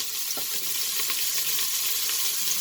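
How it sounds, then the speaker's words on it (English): Sliced onions frying in hot oil in a dekchi, a continuous close sizzle hissing evenly throughout, with faint crackles and no talking. "Our oil is heated now, so I'm going to add the sliced onions"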